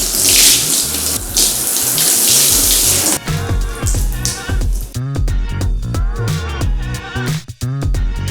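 Running water rinsing hair, a loud, close, steady gush for about three seconds before giving way to other quieter sounds and brief pauses.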